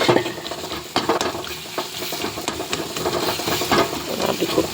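Onion and tomato being stirred and sautéed in a pan for a dry fish gravy, with a steady close sizzle and repeated scraping and jabbing strokes of a spoon throughout.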